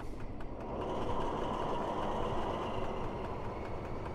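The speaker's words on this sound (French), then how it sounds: "Donc on va voir une montée en régime du moteur." A BB 67400 diesel locomotive engine in Train Simulator Classic holds a steady, loud rumble. It rises slightly in the first second as the revs build, then stays level and continuous, with no voices.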